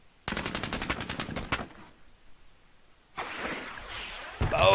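Heavy machine gun in the Soviet-Afghan War game Squad Battles fires a rapid, loud burst for over a second, then a lull, followed by further heavy gunfire and blasts toward the end.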